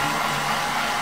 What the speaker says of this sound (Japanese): ドライヤーはちょっと弱めの風で